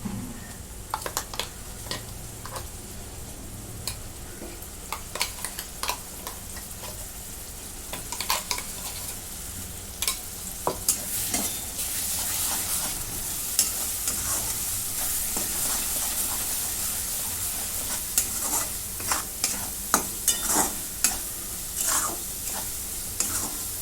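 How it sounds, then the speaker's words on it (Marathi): Ground onion masala paste fries in a pan under a constant low sizzle, punctuated by frequent sharp scraping and clanking of a spoon stirring it, close and steady with no voices. "मसाला सगळा भाजून घेतो"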